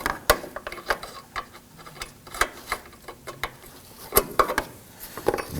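Open end wrench spinning a bolt out on a 2015-2020 Ford F-150 during lower active grille shutter replacement: quiet, irregular metallic ticks and clicks, close up, with no talking.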